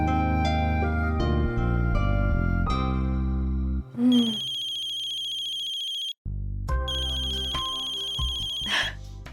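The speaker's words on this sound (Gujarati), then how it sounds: "તમે શ્રુતિને ફોન લગાડશો?" A telephone rings out as a call is placed, a tuneful ringtone melody playing in loud, clear phrases with a brief gap before it resumes. Nobody talks over it.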